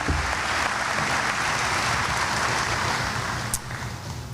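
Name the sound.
audience applause at high school commencement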